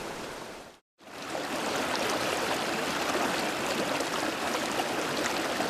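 River water flowing over stones in a stream-sampling habitat, a continuous loud rushing burble close to the microphone after a brief silent gap at the start, with no voices.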